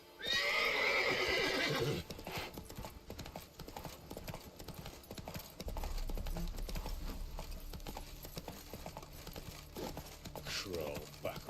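A video game horse neighs loudly at the start, then hooves clip-clop steadily under game music and ambient sound, with some voices in the background.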